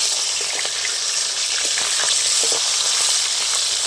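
Pomfret fish sizzle steadily in hot oil in a pan, a dense close frying hiss with faint crackles throughout and no voices.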